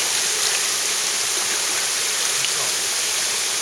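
Water tumbling steadily down the Beusnita waterfall cascade in a cave and gorge setting, a close, continuous broadband rush and splash with no pauses and no voices.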